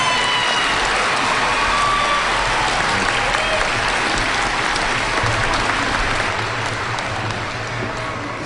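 A commencement audience applauds graduates of STEM and engineering colleges with dense, sustained clapping that fills a large hall, steady throughout and easing slightly toward the end.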